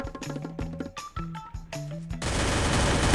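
SMG gunfire in the video game Free Fire: rapid bursts of automatic shots in a stuttering rhythm, loud and close, ending in a sustained blast of noise.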